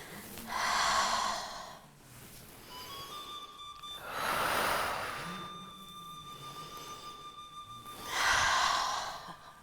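Deep breathing during a pilates exercise, three long audible breaths spaced a few seconds apart, close and loud, with quiet room tone between them.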